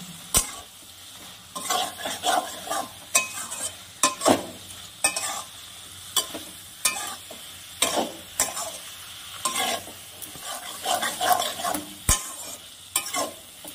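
Pumpkin shoots, potatoes and spice paste frying in a pan, a constant sizzle broken by repeated sharp scrapes and knocks of a spatula stirring at an irregular, busy pace.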